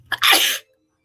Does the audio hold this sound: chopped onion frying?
no